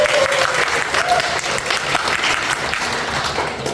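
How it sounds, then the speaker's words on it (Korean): Audience applause at a Korean Sunday lecture session, a steady wash of many hands clapping throughout, fairly loud and continuous with faint crowd murmur. "잘해내겠다고 박수 한번 치세요."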